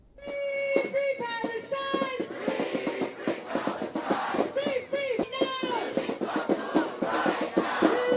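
A street protest crowd chants slogans in rhythmic, repeated phrases, many voices rising and falling together at moderate distance, sustained throughout.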